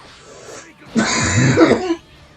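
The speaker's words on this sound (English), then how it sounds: "I've got a bit of a cough" A single harsh cough bursts out for about a second after a quiet lead-in, loud and close to the microphone.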